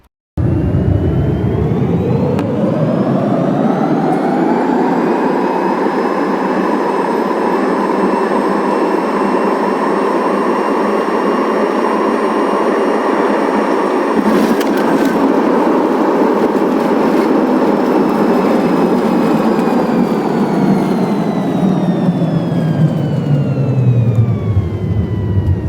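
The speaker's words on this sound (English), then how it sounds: "I'll speed up the landing so it's not to bore you." Loud, continuous roar of a British Airways Boeing 787-9 landing, sped up. Engine and airflow noise swell, hold steady, then taper off as the aircraft slows.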